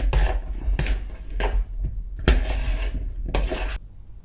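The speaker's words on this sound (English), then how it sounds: "And you just gently mix it around." Mayonnaise being gently mixed into a zakuski salad in a bowl, heard as a series of separate close scraping, squelching strokes with short pauses between them and no talk.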